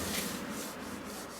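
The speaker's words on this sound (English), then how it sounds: "120 sanding pad, give it a quick rub down." Wood trim on a self-built VW Crafter campervan window box frame being hand-sanded with a 120-grit sanding pad, giving a steady, close scratchy rubbing with no pauses, heard alone.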